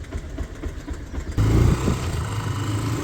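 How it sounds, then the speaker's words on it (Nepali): A motorcycle engine starts abruptly partway through after quieter background noise, then settles into a close, steady idle rumble. "मेरो बाइक चाहिँ यहाँनिर स्टार्ट गरिरहेको छु।"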